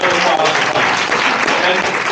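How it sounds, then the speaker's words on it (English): Audience clapping at a conference closing session, a steady, full wash of applause filling the room for about two seconds without a break. "Feel free to clap for that."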